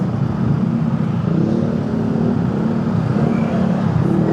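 Jammed traffic on a road to Puncak heard from a moving motorcycle, a loud steady engine drone with low rumbling idling vehicles close around and wind noise, no speech.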